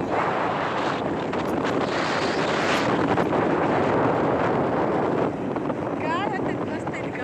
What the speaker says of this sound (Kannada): ಗಾಳಿ ಹತ್ತೈತಿ, ಮಸ್ತ್ ಐತಿ ಗಾಳಿ